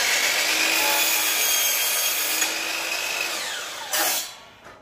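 Power saw cutting through a cedar board, a loud continuous whining rasp of blade on wood lasting about four seconds, ending with a brief surge and then spinning down, close and without talk.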